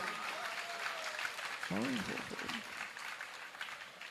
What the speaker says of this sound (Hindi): तब भी ये तालियां बज रही है